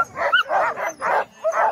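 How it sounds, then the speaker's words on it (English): Sled dogs at a Big Sky sled dog adventure outfit give four or five close, yelping barks in quick irregular bursts, loud and excited, with no talk over them. "Spirit of the North Sled Dog Adventures owns about 105 dogs and is Sperry's full-time business"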